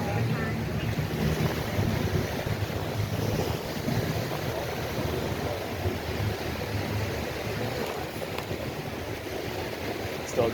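Ocean waves wash steadily onto Fort Myers Beach, Florida, a continuous broadband roar mixed with wind buffeting the microphone, with no speech.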